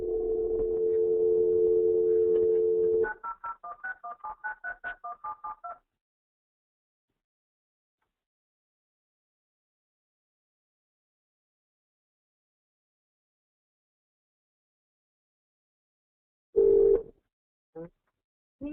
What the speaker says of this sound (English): Reinstall the application, and then dial the number again.